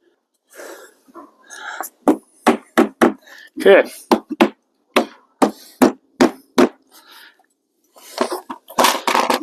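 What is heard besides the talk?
hammering a window buck frame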